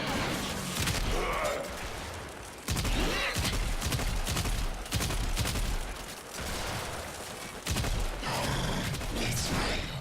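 Gunfire in the video game Warframe comes in repeated dense bursts of rapid shots separated by brief lulls, loud and close, with little talking.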